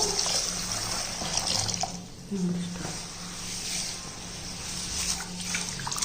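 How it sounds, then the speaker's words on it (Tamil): Water splashes and pours steadily into a container holding 1 kg of pearl millet grains, a continuous wet rushing at moderate volume with faint background noise. "இப்போ இந்த 1 கிலோ கம்பில் நம்ம தண்ணி ஊற்றிக்கிடுவோம்."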